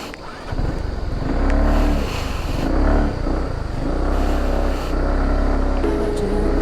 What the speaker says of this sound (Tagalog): Tumaingay din yung motor natin.